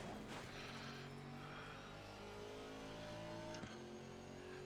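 An Aston Martin GT4 race car in a racing game drones steadily at Suzuka, its engine a sustained harmonic hum that shifts slightly in pitch, quiet throughout, with a brief knock near the end.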